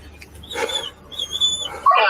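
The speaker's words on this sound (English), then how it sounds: "Let the dog out." A police dog yelps and whimpers in short bursts near the scene of an armed traffic stop, with a louder whine near the end.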